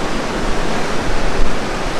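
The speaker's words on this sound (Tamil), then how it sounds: "தண்ணி ஓடுற சத்தமே சத்தங்க, செம்ம." Steady, loud rush of water pouring over the KRP check dam, a dense broadband roar with no pauses and no voices, heard close by.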